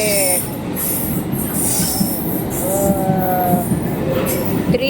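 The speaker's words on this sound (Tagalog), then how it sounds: "Here's my second train." A passing train in London near Aldgate rumbles steadily with rail clatter and high wheel squeals on the track, loud and close throughout.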